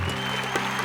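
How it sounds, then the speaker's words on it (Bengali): Audience applause for a singer on a televised singing competition stage: a short, dense burst of clapping from a crowd, loud and close, lasting under a second. "ওর জন্য একটা জোরে হাততালি।"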